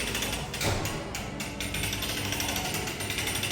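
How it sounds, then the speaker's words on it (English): A coin-operated penny pressing machine grinds away, a continuous mechanical rattle of gears and cranking with a few louder clunks, close and steady. "I found a penny machine."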